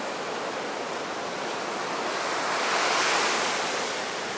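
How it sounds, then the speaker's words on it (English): Atlantic Ocean surf breaks on a quiet beach at Kill Devil Hills, a broad continuous wash of waves that swells slightly toward the end, with some wind noise. "The beautiful waves of the Atlantic Ocean."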